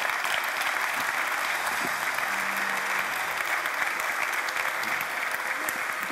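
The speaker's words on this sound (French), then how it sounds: "Je vais vous demander d'applaudir avec toute la chaleur qu'il se doit" Sustained applause from a conference audience welcoming France's Minister of Labour and the U2P president at a plenary session, a steady dense roar of clapping throughout with no speech over it.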